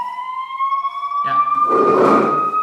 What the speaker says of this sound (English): You will hear an acoustic warning from the hub in a couple of seconds,